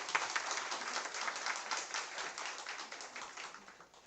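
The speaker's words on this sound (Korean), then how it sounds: "멋진 발표를 해주신 하대영 주무관에게 다시 한번 큰 박수 부탁드립니다" An audience at an office meeting gives a round of applause after a staff presentation, a dense, even patter of many hands that holds steady for about four seconds before tapering slightly.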